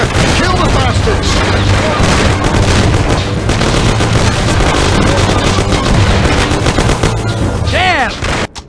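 Heavy, continuous gunfire in a Mafia shootout, with loud, rapid machine-gun bursts and booming shots layered together, unbroken for several seconds before cutting out at the end.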